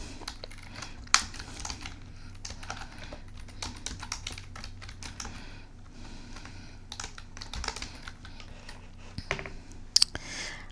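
Steady typing on a computer keyboard in a word processor: a long, continuous patter of close, quiet key clicks with occasional louder single strikes, no voices.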